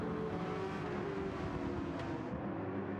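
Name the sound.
race cars driving in Gran Turismo 7 video game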